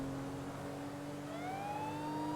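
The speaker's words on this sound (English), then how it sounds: "these have the worst sounding sirens ever" Emergency vehicle siren wails at a distance, a faint steady tone that then rises in pitch as it begins its sweep.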